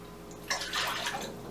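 Water is poured into a pot while jjajang rabokki is being cooked, a soft steady splashing rush that starts about a third of the way in and continues to the end, with no talk.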